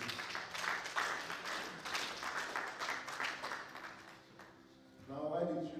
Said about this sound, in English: Let's clap for Jesus once again.